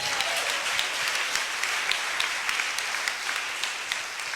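Dense, steady applause from a live audience at a religious testimony gathering, many hands clapping together without pause, close and loud for the whole stretch.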